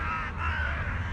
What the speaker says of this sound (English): Got some birds, some crows lined up there.